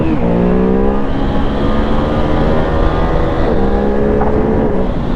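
A Ducati Hypermotard 950 RVE motorcycle rides a bumpy road, its engine droning steadily and close with rising and falling pitch as it shifts and accelerates, under constant wind noise.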